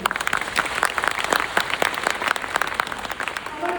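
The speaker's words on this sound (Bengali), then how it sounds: "আমাদের পরিচালকের জন্য সবার আগে একটা জোরে হাততালি" A crowd claps loudly for a film's director at a screening of the Bengali movie Bibi Payra, a dense, continuous patter of many hands filling the room without pause.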